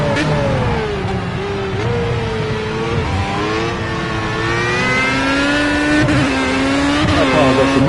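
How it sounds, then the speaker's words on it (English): Race car engine in Project Cars on PS5, loud and close, revving high and dropping in pitch as gears are popped down, with surges and rev blips across the run and no talk. "I love popping them gears down like that"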